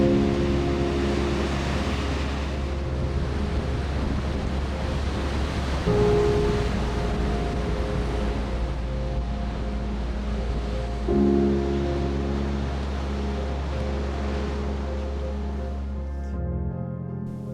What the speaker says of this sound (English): You can really feel the power of the ocean here.